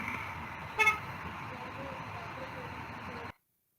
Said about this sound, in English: y'all hear that honking sound?